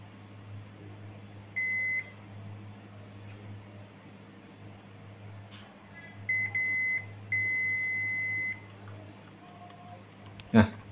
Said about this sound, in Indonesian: kita cek ya dengan menggunakan multimeter dengan mode buzzer